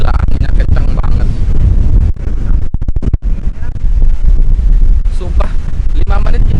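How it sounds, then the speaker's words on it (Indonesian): Strong gusting wind buffets the microphone at a windy campsite on Gili Trawangan, a loud continuous rumble throughout with brief lulls, while people talk over it. "anginnya kenceng banget"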